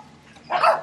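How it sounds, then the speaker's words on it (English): A dog in an Indonesian city gives a single short bark, fairly close, that follows a quiet stretch of background noise. "Oh, and you got a dog too."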